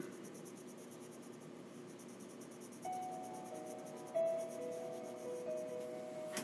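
A colored pencil colors on paper in soft, continuous rubbing strokes, faint and close, with a few brief higher scratchy squeaks partway through.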